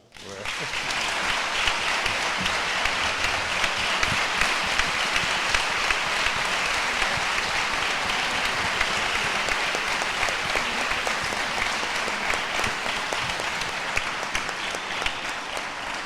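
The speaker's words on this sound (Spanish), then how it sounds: "un fuerte aplauso" Sustained, dense applause from a crowd, steady and fairly loud from start to finish, with many hands clapping at once.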